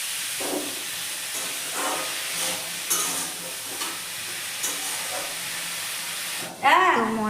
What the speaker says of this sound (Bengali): আলুটার সাথে এটাও ভাজা ভাজা হয়ে যাবে তো দিয়ে একটু ঢাকা দিয়ে দেবো